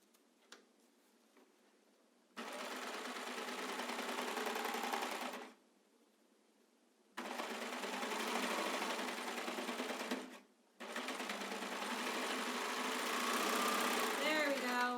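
A serger overlocks fabric for a face mask in three long, steady stitching runs separated by short pauses, the motor humming loud and close with a fast ticking rhythm.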